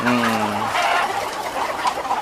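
Chickens cluck in cages on a poultry farm, with a short run of clucks up front and then scattered softer clucks and bird noise over a busy, moderately loud farm background.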